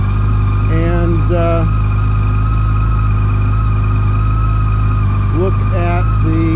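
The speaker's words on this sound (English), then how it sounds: "you can see the engine is cold. The idle is currently 1500 RPM." A cold 2014 Yamaha FJR 1300 ES motorcycle engine idles steadily at about 1500 RPM, a loud, even hum that runs throughout, with a person talking over it at moments.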